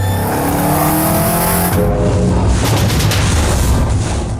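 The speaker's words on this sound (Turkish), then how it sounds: "tamamen elektrikli olmasına rağmen ciddi bir motor sesine sahip ve bu motor sesi tam anlamıyla kışkırtıyor" A loud, high-pitched electric motor whine rising and surging as a Ford Mustang Mach-E 1400 accelerates hard, with a booming low rumble underneath; no voices.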